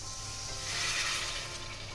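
Boiled water poured into spices frying in oil for a mourala fish curry with potato and aubergine gives a steady hiss and crackle that swells in the middle of the pan and then eases.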